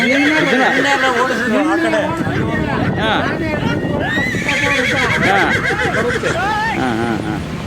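A horse at a government hospital, gazing at its own reflection, gives repeated loud, close whinnies and neighs, with hoof clops and people talking nearby.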